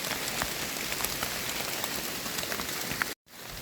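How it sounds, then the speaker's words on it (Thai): Heavy rain pours on a forest during mushroom picking, a dense steady patter of drops that fills the whole scene and stops abruptly for a moment near the end, with no talk. "ฝนก็ตกครับ"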